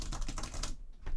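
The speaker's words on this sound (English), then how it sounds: "Just spam the keyboard." Rapid, busy clatter of a computer keyboard being mashed, dense overlapping keystrokes up close that thin out briefly before a final burst.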